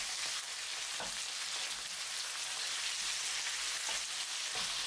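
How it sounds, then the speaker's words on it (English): Marinated chicken pieces searing in a pan make a continuous soft sizzle, with a few light clinks and stirring sounds scattered through it and no voices. "the chicken pieces grill and caramelize slightly on the surface"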